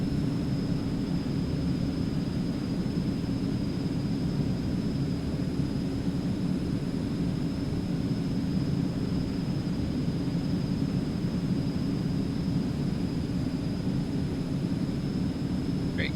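Constant jet engine drone of an Eclipse 550 in the X-Plane 11 flight simulator, a steady loud rumbling roar with a thin high whine running throughout, heard alone.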